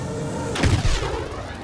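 A single heavy turbolaser blast with a booming impact rings out in Star Wars: Battlefront, the explosion briefly swelling over a continuous background rumble.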